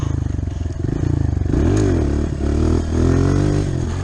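A motorcycle engine revs hard during wheelie practice, throbbing close and loud, then rising into a sustained, wavering high-rev drone.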